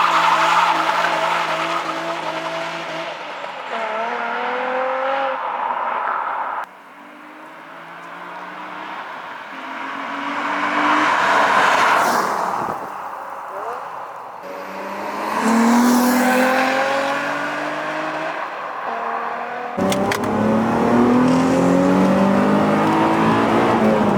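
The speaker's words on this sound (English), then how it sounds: "we'll go and do a couple of little skids and just enjoy it on our private road" Nissan 350Z skidding on a private road in Cancun, Mexico, with loud continuous tire squeal and wavering, rising and falling engine revs through repeated slides, close and sustained throughout.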